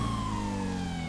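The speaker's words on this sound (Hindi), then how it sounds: "पुलिस वाले बोले ना ना हमारी कार ना है, तो सायरन लगवा रखा हूँ मैंने" Police siren in the video game GTA 5, a steady loud electronic wail with sustained tones running throughout, no voices over it.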